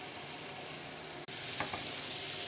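Onions, tomatoes and green chilies fry in a pan with a steady, close hiss of sizzling oil, broken by a brief dropout and a couple of soft clinks of stirring.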